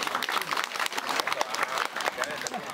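Applause after a Hakka lion dance performance, a dense, steady patter of many hands clapping outdoors, with crowd noise and voices mixed in.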